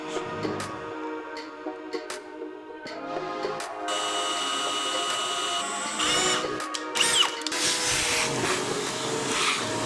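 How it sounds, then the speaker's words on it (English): A power drill whirs loudly and steadily up close, drilling hidden-hinge holes in wood in sustained bursts with brief pauses between them. "What we gotta do next is drill the holes for the hidden hinges."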